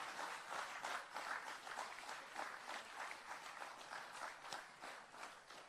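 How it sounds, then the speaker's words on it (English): Applause for land owners at a land titling ceremony in Jamaica: a crowd claps steadily and continuously, sounding soft and somewhat distant throughout. "please join us in giving a rousing round of applause to our land owners"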